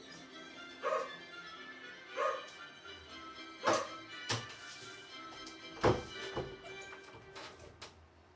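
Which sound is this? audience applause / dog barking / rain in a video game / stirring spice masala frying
dog barking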